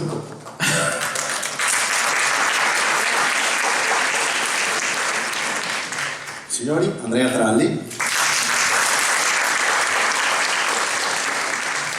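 An award-ceremony audience at the Premio Giorgione 2024 final evening breaks into loud, sustained applause that briefly pauses while a man announces a name, then the clapping resumes strongly.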